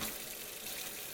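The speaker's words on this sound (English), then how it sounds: "we'll get some cold water going here" Cold water runs steadily from a sink tap, a continuous hissing splash that stays loud and even with no voices.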